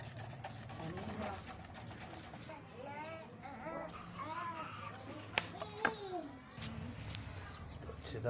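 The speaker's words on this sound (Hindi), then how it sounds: "अच्छी तरह ब्रश मार के इसको" A brush scrubs dust off a computer motherboard during cleaning, a steady soft rubbing that runs under a voice talking throughout.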